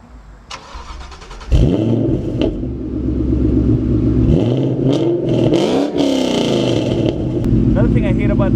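A 2014 Shelby GT500 Mustang rumbles at idle through its exhaust, then barks into several sharp, loud revs that rise and fall, heard up close with a voice speaking over parts of it.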